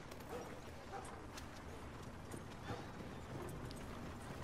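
Horse hooves clip-clopping at a walk in the video game Red Dead Redemption 2, a faint, low-level rhythm of soft hoof beats over quiet game ambience and a murmur of speech.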